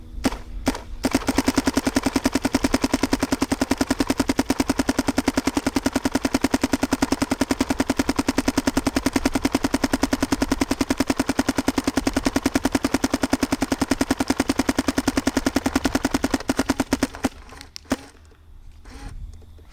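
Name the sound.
paintball gun with Dye MXR kit firing continuously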